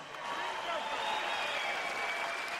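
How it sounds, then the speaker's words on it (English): A boxing arena crowd applauds after a heavyweight fight, a broad wash of clapping and cheering under a ringing tone, building quickly and then staying steady. "How about a big round of applause for these two amazing warriors?"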